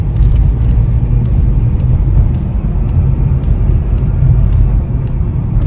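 A Renault Kiger AMT accelerates in third gear around 30 km/h, a steady low engine drone with road rumble heard continuously from inside the cabin, no voices.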